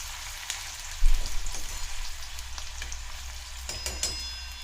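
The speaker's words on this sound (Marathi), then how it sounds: "कांदा परतवायचा" Finely chopped onion sautéing in oil with cumin and mustard seeds in a pan, a continuous crackling sizzle with a louder spatula stir near the start and a few scrapes later.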